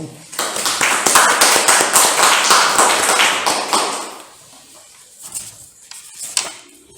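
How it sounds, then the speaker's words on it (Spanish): Audience applause at an academic award ceremony for doctoral theses, a dense burst of many hands clapping loudly for about four seconds, then fading to scattered claps and quiet room noise. "Un aplauso."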